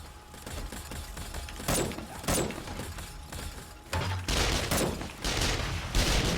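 Turret gunfire in the survival game 7 Days to Die, dense bursts of rapid automatic shots coming in waves, loud and close, with brief lulls between volleys.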